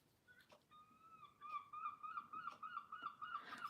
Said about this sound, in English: Now go ahead, birds. Let everybody hear what I got here.